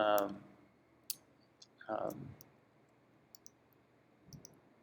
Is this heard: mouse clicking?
yes